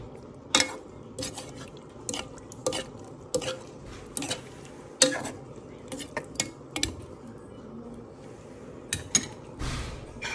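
Chicken liver and gizzard with egg stirred in a pan, a metal utensil scraping and clinking in irregular taps over a faint sizzle, close and fairly quiet.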